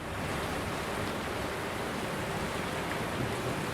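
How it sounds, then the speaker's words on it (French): Dense, steady downpour from a rain squall hammering on a sailboat at sea, a continuous broadband roar with no pauses, loud and close, no voices. "Il pleut des centaines de litres d'eau sur le bateau."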